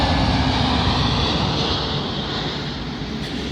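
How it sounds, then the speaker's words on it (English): A British Airways Airbus A320neo arriving at London Heathrow runway 27L produces a broad, steady roar of jet engines that slowly fades as it passes, heard from a distance with no voices. "Arriving in now is a British Airways A320neo, working a service from Reykjavik to London Heathrow."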